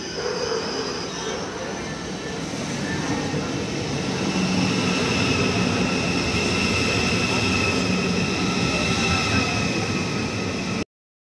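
A train rumbling along steadily with a continuous droning roar and faint high whine, loud and close throughout before cutting off.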